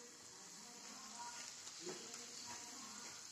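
Modak frying in hot oil over a low gas flame, a steady soft sizzle with faint bubbling throughout, close and even, with no talk over it.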